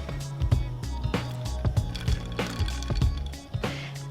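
Blanched green beans are dropped into a bowl of ice water, giving close, wet splashes and sloshing knocks in an uneven rhythm with quick clinks of ice, and no talk.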